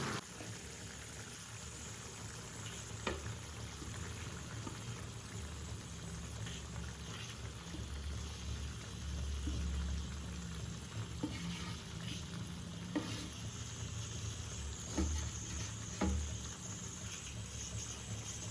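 Mushroom gravy simmering in a pot, a soft continuous bubbling and sizzle with faint stirring taps throughout, quiet and steady with no talk.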